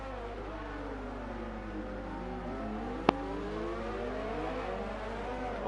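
Formula 1 race car engine in a racing video game set at Monaco, a steady droning whine with shifting engine pitch and one sharp click midway, running continuously without speech.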